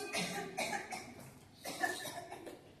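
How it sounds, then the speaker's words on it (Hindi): A person with a week-long cough and fever coughs repeatedly, a burst of several harsh coughs, a short pause, then another run of coughs, close and fairly loud. "डॉक्टर साहब हफ्ते भर से खांसी है, सही नहीं हो रही है"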